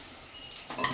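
Eggplant slices fry in a pan, a soft steady sizzle with a brief scrape of a utensil near the end, close and moderate in level, with no voices.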